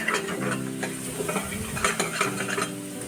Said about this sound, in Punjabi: ਥੋੜਾ ਪਾਣੀ ਪਾ ਕੇ ਆਪਾਂ ਇਹਨੂੰ ਭੁੰਨਾਂਗੇ ਮਸਾਲੇ ਨੂੰ ਚੰਗੀ ਤਰ੍ਹਾਂ ਭੁੰਨ ਕੇ